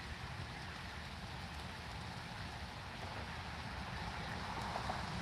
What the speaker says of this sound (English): Because it is flat out raining.